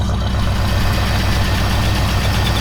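An old, long-forgotten survivor vehicle's engine idles steadily after being revived, a loud, continuous low rumble with an even pulsing rhythm and no talk over it.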